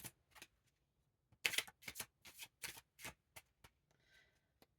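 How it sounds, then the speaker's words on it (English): Cards being shuffled up close, a series of quick papery riffles and flicks in uneven bursts, fairly quiet against a silent background. "shuffle them up a little bit here"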